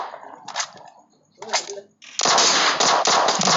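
Gunfire in the battle royale game PUBG: two short bursts of shots, then a loud, dense stretch of rapid automatic fire that continues to the end, with faint voices in the background.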